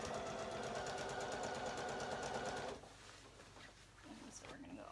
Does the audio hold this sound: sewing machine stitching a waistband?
yes